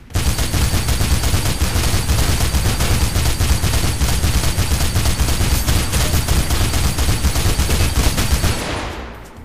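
Relentless gunfire from the video game Mirror's Edge rattles on loudly for about nine seconds, a dense rapid burst stream that fades out at the very end, with no talking.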